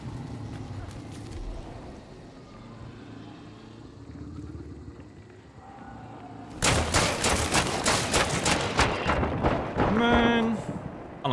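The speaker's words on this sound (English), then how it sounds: "Look, the plan is I'll headshot this guy through the wall with the dualies." Rapid pistol shots from dual pistols fired through a wall in Hunt: Showdown, a loud dense burst of about a dozen cracks in quick succession after ambient game noise, ending with a ringing tonal tail.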